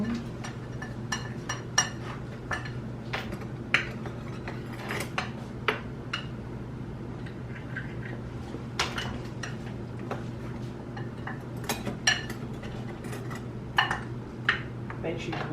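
A utensil stirs flour and spices together in a bowl with repeated quick clinks and scrapes in an uneven rhythm, close up, while people talk intermittently.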